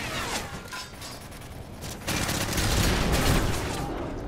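Call of Duty MW3 gameplay with a P99 pistol: several sharp gunshots, then a denser, louder burst of gunfire and a lingering crackling rumble in the second half, with no talking.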